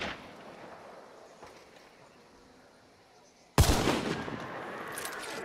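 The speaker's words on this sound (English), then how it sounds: "I hear shots over" Sudden burst of gunfire in Hunt: Showdown erupts after a quiet stretch, a loud sharp shot followed by a dense rattle of further shots and echoing reports.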